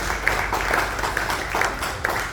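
Audience applause at a Perkasa gathering for a Tan Sri guest, a steady wash of clapping that runs without a break at moderate level, with a few sharper individual claps standing out.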